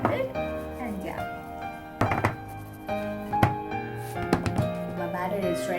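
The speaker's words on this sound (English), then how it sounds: "Make sure that the batter is air-free, and to do so, just slightly shake it and tap it" A chocolate cake batter tin for an eggless cake is tapped and shaken on a kitchen counter, giving several sharp thunks at irregular intervals over a sustained background of music.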